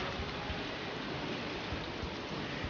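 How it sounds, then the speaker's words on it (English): A steady rain downpour on a farm, heard as an even, soft hiss that stays constant throughout with no voices. "I do not want to get stuck in this downpour."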